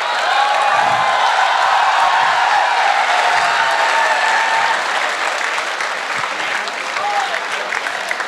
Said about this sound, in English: He also deserves a standing ovation.